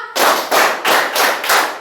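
Group clapping in a classroom counting clap game, four loud, evenly spaced bursts of many hands striking together in unison, close and sharp.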